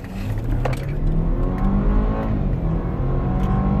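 A 2016 BMW X3 SUV engine revs up loudly with a throaty, rising roar, the rumble staying strong and steady for a few seconds.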